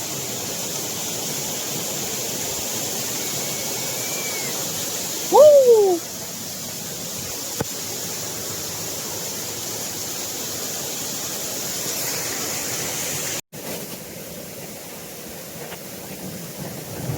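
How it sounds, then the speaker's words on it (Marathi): Waghdondi, or Bahubali, waterfall at the foot of Kalsubai rushes as a steady broadband roar from some distance, with a short bird call and a brief whistling sweep partway through, and no one talking. "एकदम सुंदर असा निसर्गरम्य असा हा आपला वाघदोंडीचा धबधबा म्हणजेच बाहुबली धबधबा"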